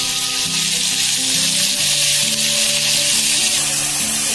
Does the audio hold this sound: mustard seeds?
yes